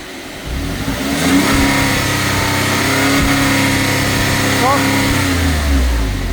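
Porsche 997 engine revving up from idle to a steady 4000 rpm during an oil pressure check, a loud sustained mid-pitched drone with a rising tone partway through, heard close up.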